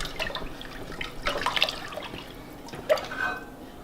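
Cold water being poured and stirred into rice for Egyptian koshari, giving faint, soft splashing and trickling in two short bursts near the middle and end, quiet and close.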